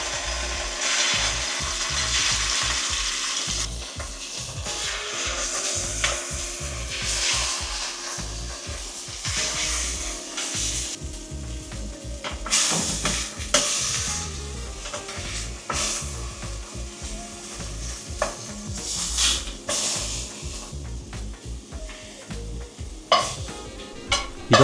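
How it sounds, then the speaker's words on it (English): Chunks of meat for a French-style cottage pie searing in a frying pan, giving a steady loud sizzle broken by stirring and scraping, with no talk. "and then you just want to sear them off."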